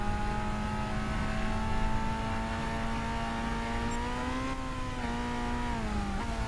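A Mitsubishi Colt 1.5 engine in the racing game Gran Turismo 6 holds a steady mid-pitched drone while driving, rising slightly then dropping as the revs shift near the end, loud and continuous with no talk.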